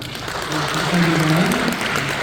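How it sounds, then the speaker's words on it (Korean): A church congregation at a New Year worship service bursts into brief, steady applause with voices mixed in. "하나님께 큰 박수로 영광 드리겠습니다"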